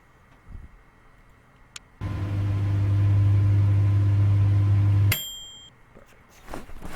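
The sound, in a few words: microwave oven running in the video game Project Zomboid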